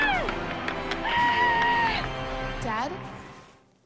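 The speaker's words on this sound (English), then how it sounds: "The ball is out of here. The crowd goes wild." A stadium crowd cheers in the MLB The Show 19 baseball video game, with loud whoops and high screams over a roaring mass of voices that fades away at the end.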